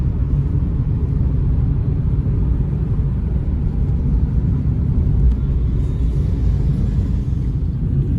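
Steady, loud low rumble of a car driving along the road toward a hospital, heard from inside the vehicle as continuous road and engine noise with no talking.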